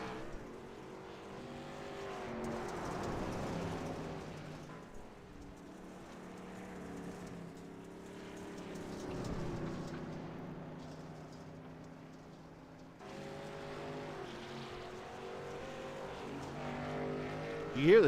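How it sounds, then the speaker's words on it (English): Off-road racing trucks at a dirt derby rev and whine through their gears, engines rising and falling in pitch as they pass at moderate distance, with a commentator talking over them. "You hear the difference in the gearing with these trucks."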